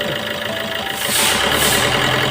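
A Maruti Suzuki car engine runs steadily and then is revved, its rough mechanical drone rising and growing louder partway through, heard close with no talking.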